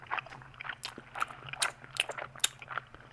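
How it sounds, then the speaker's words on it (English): Gum being chewed in the Death Mark video game, a quiet, close run of moist, irregular smacking and clicking bites with no talking. "Sounds like someone chewing gum."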